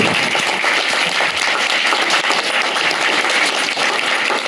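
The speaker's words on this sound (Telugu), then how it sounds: "గట్టిగా చప్పట్లు కొట్టాలి పాప." An audience at an Ayyappa devotional gathering claps and applauds for a young girl, a dense, loud, continuous wash of many hands, close and steady throughout, with no voices standing out.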